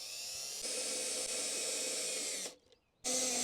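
A power drill whines steadily as it drives thin, flexible screws into a wooden beehive feeder box, cutting out briefly before spinning up again at full speed.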